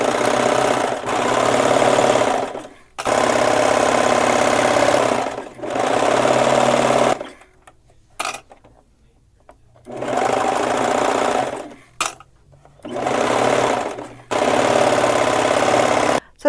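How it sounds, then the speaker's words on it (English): A serger runs down the side seam of a dress, a close, loud mechanical whir in several long bursts separated by short quiet pauses. "you'll serge down the side seam to attach the hidden pocket to both the front and back dress panels"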